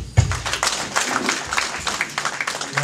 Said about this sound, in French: Merci, on va applaudir.